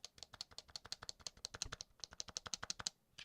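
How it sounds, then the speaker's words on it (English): Computer keyboard keys pressed in a quick, uneven run of crisp clicks, close by and clear, after a repair, with no talk over them. "Do you guys hear the difference between these keys?"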